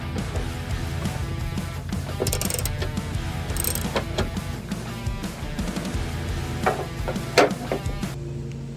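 A wrench works bolts free from a truck bumper bracket, giving close metallic clicks, ratcheting and clinks against a low background hum, with a sharper clank near the end.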